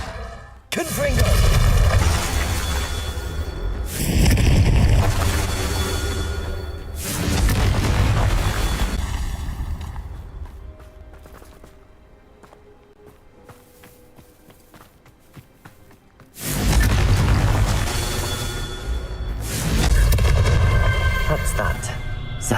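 Confringo spell blasts in the Hogwarts Legacy video game, several loud booming bursts spaced a few seconds apart, each with a heavy low thump and crackling tail, separated by a quieter stretch, with a voice speaking at times.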